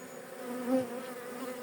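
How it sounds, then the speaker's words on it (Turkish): A soft, steady buzzing of honeybees at the hive, many of them drones, hums close by, swelling slightly for a moment before settling back. "Ama çok fazla erkek arı var."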